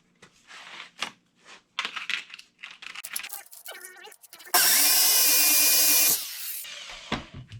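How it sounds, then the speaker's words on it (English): A power drill bores holes into a concrete garage wall for Tapcon screws, a loud steady whir lasting about a second and a half after scattered clicks and handling knocks. "We're just going to put it up there and drill the holes."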